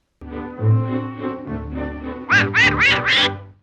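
A voice actor imitates a duck, giving Donald Duck's squawking voice in a 1935 Disney cartoon short: gravelly, nasal garble first, then four sharp, rising-and-falling quacking bursts, loud and close.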